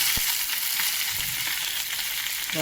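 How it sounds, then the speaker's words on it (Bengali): Papaya and potato curry pieces fry in hot oil with spices, a loud continuous sizzle close by, with a few faint knocks of a stirring spoon. "ভালো করে কষাবো"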